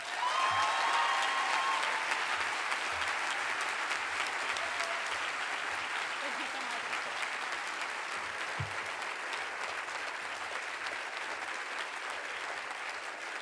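Commencement audience in 2012 applauding to welcome speaker Robert Krulwich, a broad, steady wash of clapping from a large crowd that holds for over thirteen seconds and fades slightly near the end.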